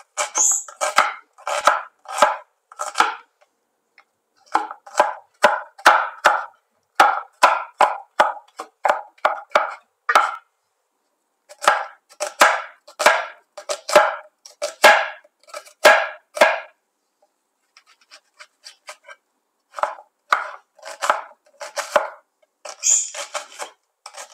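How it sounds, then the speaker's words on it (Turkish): Dry onions being chopped small with a knife on a board, heard as quick, sharp, regular knocks grouped in steady bursts with short pauses between them. The cutting is close and clear, with no talking. "Soğanlarımızı ufak ufak doğruyoruz."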